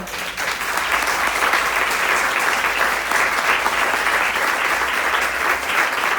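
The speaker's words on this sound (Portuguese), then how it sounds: "Você pode aplaudir ao Senhor por essa palavra?" A church congregation bursts into loud, sustained applause during a family worship service, the clapping thick and even throughout with only faint crowd murmur beneath.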